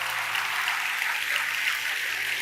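A church congregation claps together, a dense, even burst of applause that holds steady throughout with no voices over it.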